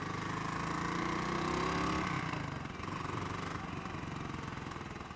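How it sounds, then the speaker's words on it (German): A Suzuki LS 650 Bobber motorcycle engine runs steadily at close range, holding a continuous mid-pitched drone that dips slightly partway through, with no talking. "Ihr seht mit meinem neuen Motorrad."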